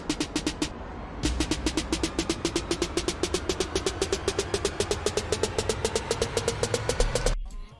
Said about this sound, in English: the same down filters as in the break, and I added this sweep.